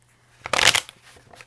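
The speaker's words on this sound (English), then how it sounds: "I'm just going to shuffle these cards." Tarot cards being shuffled by hand in one short riffling burst, a close, crisp flutter of papery cards lasting under half a second before fading to quiet.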